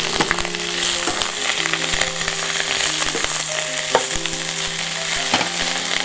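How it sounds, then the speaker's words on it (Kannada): Mint leaves fry in a pan for a curry leaf chutney, a constant near sizzle punctuated by scattered clicks and taps of stirring. "ಪುದೀನ ಅದರ ಹಸಿ ವಾಸನೆ ಹೋಗಬೇಕು ಅಂತ ಪುದೀನವನ್ನು ಕೂಡ ಫ್ರೈ ಮಾಡ್ತಾಯಿದ್ದೀನಿ"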